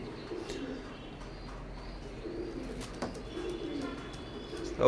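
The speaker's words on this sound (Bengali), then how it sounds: "কবুতরগুলোর দিকে একটু খেয়াল করবেন মার্শাল্লাহ কবুতরগুলো খুবই ভীতু" Imported Omani-bloodline Teddy pigeons coo softly in a quiet enclosure, with low, faint murmuring calls and a few light chirps.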